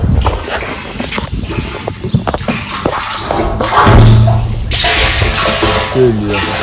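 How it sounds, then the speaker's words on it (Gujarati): Water pours steadily into a rooftop tank in a village, a continuous rushing flow that builds louder midway, with faint voices and background noise around it. "આવે હે પાણી."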